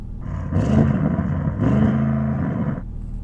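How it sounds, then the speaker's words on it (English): An Audi RS6 engine revs up twice against a soft limiter around 3,000 RPM, rising to a loud steady drone each time before cutting off, close by with no voices. "Let's rev up the Audi RS6 to see if it can sound better"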